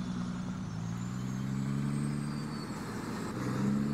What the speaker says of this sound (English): Let me shut this noisy truck off.